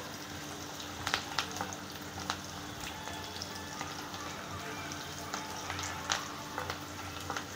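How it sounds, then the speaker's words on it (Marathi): Onion softens in a pan for matki misal, a faint, steady sizzle with scattered soft pops and occasional light stirring taps. "कांदा थोडा नरम होऊ दे."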